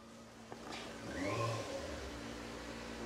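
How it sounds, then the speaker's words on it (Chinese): A motorcycle engine arrives and revs up, a steady mid-pitched drone swelling to a peak midway, then holding fairly close with no talk. "老夏又跑出去了，非得把摩托车骑回来叫我看看。"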